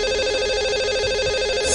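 A telephone line rings out while a call is being placed to a caller, a steady electronic ring tone with a layered buzzing pulse that runs unbroken and loud on its own.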